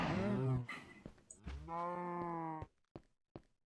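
Cows in Minecraft give a few drawn-out, fairly close moos with short gaps between them, followed by faint clicks.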